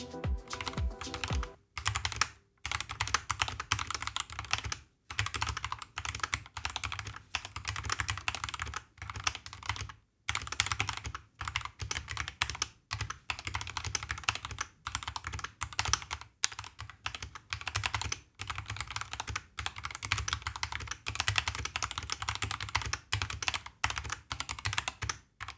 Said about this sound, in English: this is a test with Akko Jelly black switches before the stabilizer mods